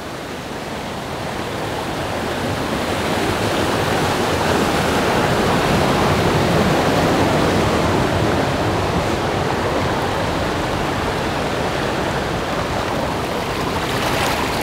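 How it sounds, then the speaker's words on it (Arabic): A waterfall on the road to Ayder in Turkey's mountains roars loudly and steadily, a dense continuous rush of falling water close by. "تعالوا الان نتوجه للشلال الموجود هنا، لا تفوتوا التصوير عند الشلال."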